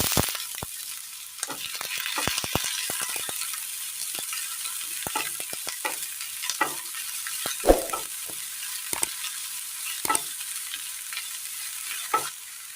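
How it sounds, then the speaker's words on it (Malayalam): Chopped onion frying in hot oil in a pan, with a bright continuous sizzle close by and frequent irregular clicks and scrapes as it is stirred. "അടുപ്പത്തൊരു പാൻ വെച്ച് കൊടുത്തതിന് ശേഷം ചൂടായി വരുമ്പോൾ എണ്ണ ഒഴിച്ചു കൊടുക്കാം. ഇതിലേക്ക് സബോള അരിഞ്ഞത് ചേർത്ത് കൊടുക്കാം."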